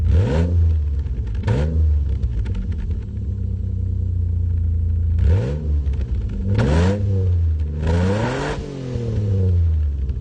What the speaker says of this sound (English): Just listen to the fucking exhaust